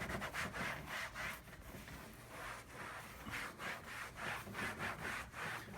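A rag soaked in rubbing alcohol is rubbed back and forth over a Jeep JK interior surface, giving a rhythmic scrubbing and swishing, fairly quiet and close, in repeated strokes with no talking.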